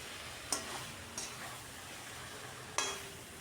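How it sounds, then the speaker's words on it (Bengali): Chicken being stir-fried in a pan with roasted spices. A faint, low sizzle runs underneath while three sharp clacks of a utensil against the pan stand out in the short stretch. "ভাজা মশলাটা দিয়েও আরও কিছুক্ষণ কষিয়ে নিচ্ছি"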